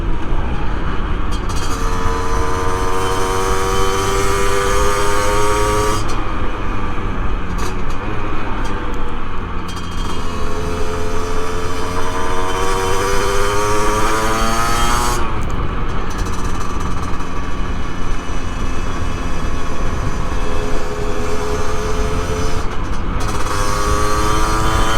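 A motorcycle engine drones steadily at low revs, its pitch rising and falling in long swells, with no speech.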